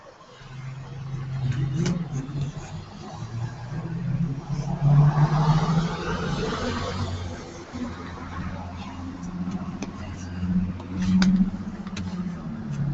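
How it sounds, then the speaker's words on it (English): Street traffic in the town of Batavia, New York: a steady low rumble of cars moving through nearby streets, with engines swelling and easing as vehicles pass, and a voice talking faintly underneath. "there's live traffic from the city of Batavia, New York"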